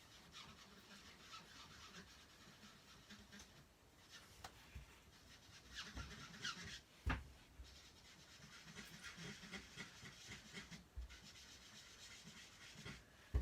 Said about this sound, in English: all I'm doing is just going round, round, round, and I'm just rubbing the ink in